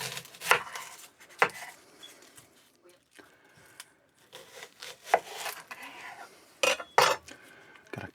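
A knife cuts and peels an onion on a board for beef goulash, with irregular sharp knocks and papery rubbing of skin, close up, over a fairly quiet background.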